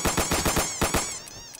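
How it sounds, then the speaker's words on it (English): Rapid automatic-style gunfire from a Glock pistol in the video game Insurgency: a quick burst of about eight close, loud shots, followed by a few scattered, fainter pops. "I'm holding an AK but firing my Glock."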